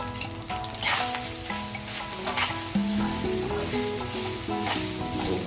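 Jeera rice being stirred in a hot pan, with continuous loud sizzling and frying under scraping stir strokes, close and steady with no voices.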